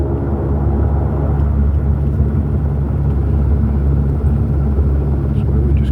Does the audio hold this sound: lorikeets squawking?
no